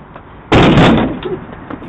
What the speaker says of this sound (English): decided to come kick my door and run. He kicked it so hard that he broke the storm window